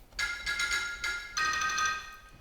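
Bright, percussive mallet-like notes from a theatre organ's xylophone stop, struck in a quick sequence, each with a short ringing decay, played alone at moderate volume.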